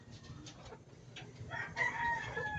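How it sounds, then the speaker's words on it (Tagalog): Chickens cluck in the background as a rooster crows toward the end, at moderate distance over faint ambient noise, from young gamefowl about three to four months old. "Dami kong manok."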